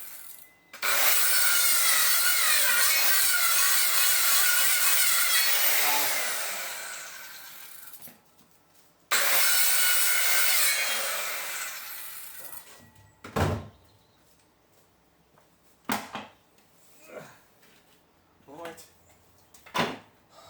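A hand saw cuts through a wooden pallet in two long, steady bouts of rasping strokes, close and loud, followed by scattered knocks and scrapes of wood being shifted.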